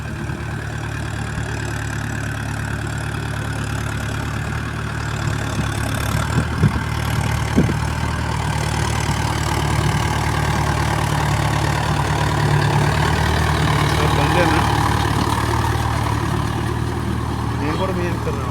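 Farm tractor engine running near a well, a loud, steady, low idling drone that continues for the whole stretch, with people talking over it.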